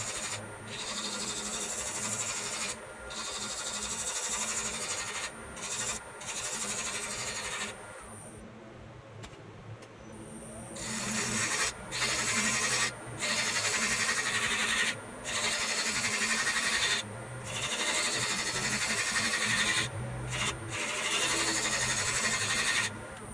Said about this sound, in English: as I was doing the shear scraping on this